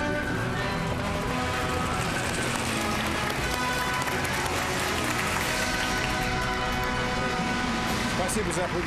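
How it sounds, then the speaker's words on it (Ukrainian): A studio audience on a television talk show applauds in a steady, dense wash of clapping that runs throughout, mixed with music and overlapping voices. "Спасибо за аплодисменты еще раз."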